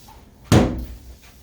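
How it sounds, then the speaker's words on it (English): One short, close burst of cleaner spray hissing onto shower walls, with a soft thump at its start, set against a quiet room. "we're going to spray the ceiling"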